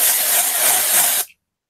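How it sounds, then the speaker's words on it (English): A steady, loud hiss of an aerosol hairspray-type can sprays continuously at close range for just over a second, then cuts off abruptly into silence. "Did you just spray some kind of hairspray type thing?"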